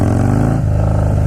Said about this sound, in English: whenever you hear like the Harley exhaust, another biker kid